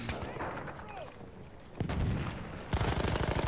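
Gunfire in a shooter game, with loud repeated shots cutting in around the two-second mark and a denser burst of rapid fire near the end, set against a busy background.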